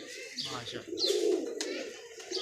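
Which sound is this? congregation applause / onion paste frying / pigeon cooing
pigeon cooing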